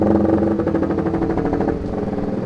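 A stock Honda CBR150R engine revs hard and steadily toward its 12,000 rpm open limit, a loud, continuous high-pitched buzzing drone close to the bike with no talking.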